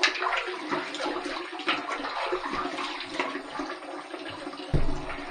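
Water runs and splashes steadily in a bathroom as the face is wetted before a shave with a stainless steel open comb safety razor; the close, continuous rush has a brief louder burst near the end.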